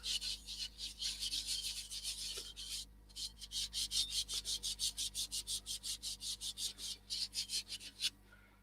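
Wooden crochet hook spinning on a lathe while Yorkshire grit is pressed against it, giving a steady hissing abrasive rasp at first, then a run of rhythmic, evenly spaced gritty strokes over a low motor hum.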